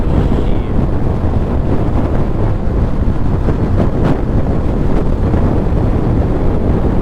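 Roaring wind blasts a helmet or body microphone as an ADV160 scooter speeds downhill at around 70 miles an hour, a loud, unbroken rushing rumble that swamps everything else.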